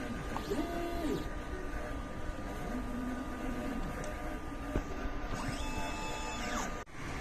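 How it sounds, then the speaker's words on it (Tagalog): Printer running a nozzle check, a steady mechanical hum with rising and falling carriage-motor whirs as the head moves back and forth, close and moderate, ending in a short clunk. "Nozzle check."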